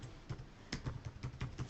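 Quiet typing on a computer keyboard: a handful of light, irregular key clicks in quick succession, alone with no voices.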